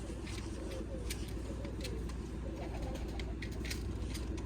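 Pigeons coo softly in a steady, low murmur that carries on throughout, with faint bird chirps above and no one speaking.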